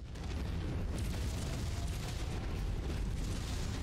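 Heavy AC-20 autocannon fire from a battlemech in MechWarrior 5, a dense continuous booming rumble of blasts and impacts, fairly distant and muffled, with no voices.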